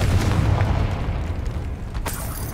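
A Confringo fire spell explodes in the video game Hogwarts Legacy, a loud booming blast with rumbling debris that fades over a couple of seconds, with no talk.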